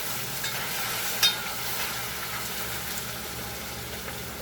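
Chicken frying in oil in a pot, with a steady close sizzle and a brief louder splash partway through, and no talk over it.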